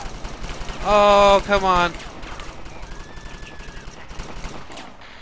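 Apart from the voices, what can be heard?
gunfire from the video game Satellite Reign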